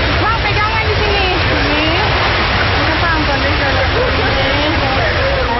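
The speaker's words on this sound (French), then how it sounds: "À 2 km à l'intérieur des terres, le torrent fait encore 10 mètres de haut." Tsunami floodwater surges inland as a loud, continuous roar of rushing torrent, its dense churning noise constant for several seconds with faint voices beneath.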